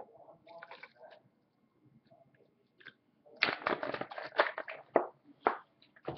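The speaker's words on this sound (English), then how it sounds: "Gonna go about 2 ounces of Mountain Dew." Mountain Dew is poured into a mixed drink, with a faint trickle, then a louder splashing, fizzing pour in uneven bursts, close by.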